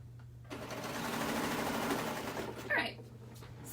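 A sewing machine stitches a seam on a pair of homemade undies, starting after a brief pause with a steady, fast whirring hum that runs continuously, then a short higher clatter or squeak near the end.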